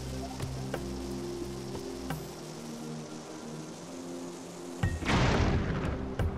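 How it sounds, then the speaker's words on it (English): A bomb goes off in the video game Zelda: Skyward Sword HD, a short booming burst near the end that follows a steady low hum with a few faint clicks, with no talking. "let's see if we can toss a bomb in there."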